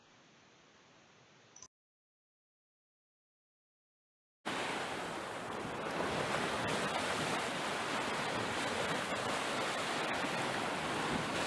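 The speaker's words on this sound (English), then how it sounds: "Just listen to the sound of these ocean waves." Ocean waves as a relaxing nature sound, a steady broadband wash of surf that begins after a short silence and continues loud and even to the end, with no talking.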